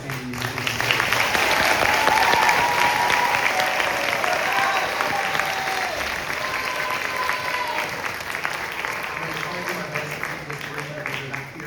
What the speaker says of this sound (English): How about another round of applause for these outstanding musicians?